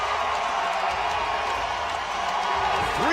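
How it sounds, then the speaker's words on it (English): At a CrossFit Invitational weightlifting event, an arena crowd cheers and whoops after a clean and jerk lift, a steady roar with a commentator talking over it. "Patrick Vellner giving this crowd something to cheer about as he hits that lift"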